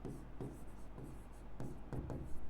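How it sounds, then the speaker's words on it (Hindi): Marker or chalk strokes on a classroom board as a chemistry expression is written, a series of quiet scratchy bursts repeating about every half second, close and faint, with no talking. "सुनो पहले एक्सप्रेशन लिखते हैं यहाँ पे"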